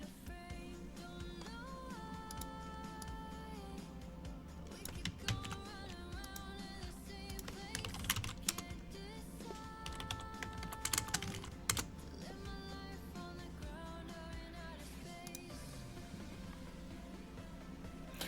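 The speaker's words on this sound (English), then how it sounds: "Oh, my fast typing sounds cool." Rapid, steady clatter of keys on a computer keyboard, continuous and close, with occasional heavier keystrokes.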